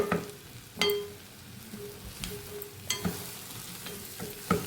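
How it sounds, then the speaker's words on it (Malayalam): A spoon stirs a bitter gourd stir-fry with ground cashew in a pan, giving repeated sharp scrapes and clacks over a soft background sizzle. "ഇത് നല്ലപോലെ ഒന്ന് മിക്സ് ചെയ്ത് കൊടുക്കാം കേട്ടോ"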